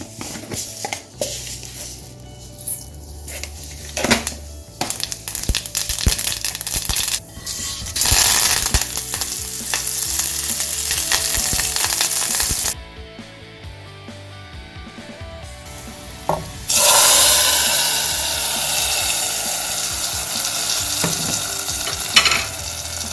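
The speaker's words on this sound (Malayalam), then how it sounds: "ഇനി നമുക്ക് കടുക് തളിച്ചിടാം." Mustard seeds tempering in hot oil for an Onam pachadi or mango kalan, giving a steady loud sizzle and crackle with bursts of popping that cut out briefly and then return stronger, with no talking.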